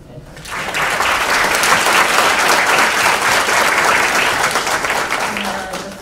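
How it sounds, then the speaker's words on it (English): Sustained audience applause fills a room at a South Sudanese diaspora dialogue gathering in Washington, D.C., a dense wash of many hands clapping steadily for several seconds before tapering slightly. "invite everybody to share an applause for all those who've been here"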